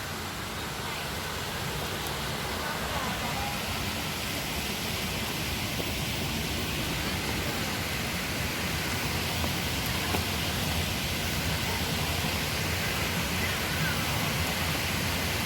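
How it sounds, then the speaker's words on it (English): Running water from a small waterfall along a dam trail at a lake, a steady broad rushing wash that stays even and fairly close throughout, with no clear speech. "Right there's the running water. Looks like a little waterfall."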